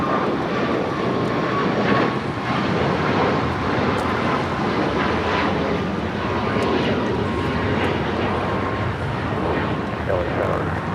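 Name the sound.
Cayman Airways Boeing 737 MAX 8 taking off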